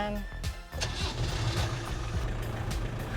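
An old Land Rover Defender engine cranking and catching, then settling into a steady, rumbling idle close up, with a voice speaking faintly over it.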